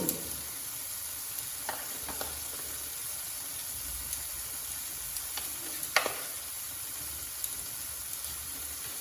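Kashmiri chili powder going into onions frying in oil over a low flame for a Bengali prawn malai curry, giving a soft, steady sizzle with a few scattered scrapes and taps of stirring.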